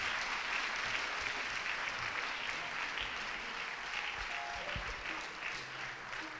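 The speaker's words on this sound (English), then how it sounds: "if you would stand and welcome her and give her an applaud" An audience at a graduation ceremony applauds steadily, dense clapping that sounds somewhat distant and holds through to the end with slight swells.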